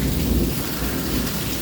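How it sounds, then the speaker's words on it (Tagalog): Heavy rain pouring down with thunder, a dense, constant roar of rainfall filling the short stretch with no voices. "You all cannot go out because it's heavy rain."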